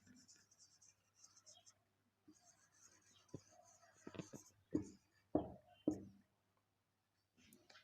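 Marker or chalk writing on a classroom board, soft scratchy strokes that build into a few louder taps and squeaks near the middle, heard alone at close range.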